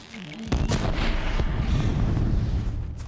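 Heavy gunfire and blasts from enemies in the video game Horizon Zero Dawn, a sudden loud boom after a quiet start followed by sustained rumbling fire and crackling impacts, no voices.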